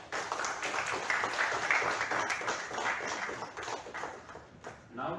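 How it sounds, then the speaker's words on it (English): An audience at the inauguration of a cardio-diabetic medical conference claps for a speaker, with scattered, fairly distant hands rising then thinning out as voices come through near the end. "Please give her a big round of applause."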